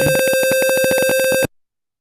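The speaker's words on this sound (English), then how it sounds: "we're going to hear some buzzing right now" A steady electronic buzzer drones loudly for about a second and a half, then cuts off abruptly into silence.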